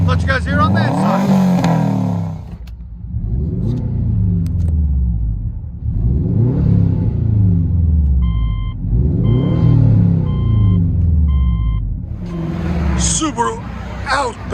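A 2006 Subaru Outback 2.5 XT with a Flowmaster Super HP2 muffler revs up and down about four times, its exhaust rumbling and rising in pitch, with a few electronic beeps in between.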